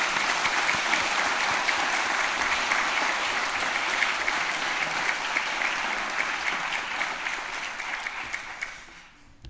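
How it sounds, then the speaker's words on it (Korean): A church congregation applauds newly installed deaconesses during an anniversary ordination service: sustained, even clapping filling the sanctuary at moderate volume, slowly tapering off toward the end. "박수로 격려해 주시기 바랍니다."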